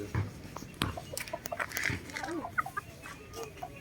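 Hen clucking nearby in short irregular bursts, a few quick clucks and calls mixed with light background rustling, no talking.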